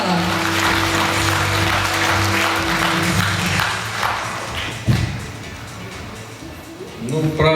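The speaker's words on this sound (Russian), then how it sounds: "И аплодисменты зала." Hall audience applauding at an awards ceremony for an ethnic song contest, sustained crowd clapping mixed with lingering music tones at first, loud and continuous, with a thump near the middle.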